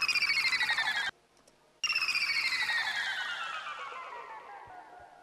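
Synth blips with added reverb in an electronic track sound like a bright, rapidly pulsing cascade of falling pitches. It breaks off briefly, then returns and trails away in a long, washy tail.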